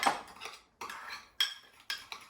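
A spice rub stirred into mayonnaise in a bowl, with four distinct bursts of a utensil scraping and clinking against the bowl, separated by brief pauses, close and clear.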